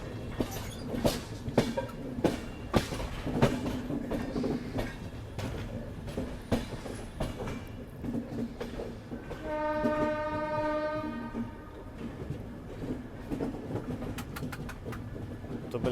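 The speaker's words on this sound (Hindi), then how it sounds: "तो बिल्कुल आउटर में अपनी क्रॉसिंग हो रही है पूरी जोधपुर एक्सप्रेस से, और ये डीजल लोकोमोटिव के साथ है।" Diesel-hauled passenger train crossing the Jodhpur Express at a station outer, with rhythmic clickety-clack of wheels over rail joints, a sustained horn blast midway and steady rumbling throughout.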